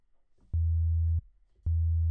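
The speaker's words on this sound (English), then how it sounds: "Let's just start off with the sine wave to see how things are affecting it." Two steady low sine-wave test tones sent through an audio compressor, each sounding for about half a second with a sharp click at its onset and cutoff, loud and clean with near silence in between.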